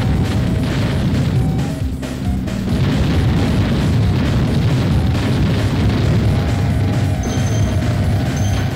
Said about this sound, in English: Force, and here's a bomb.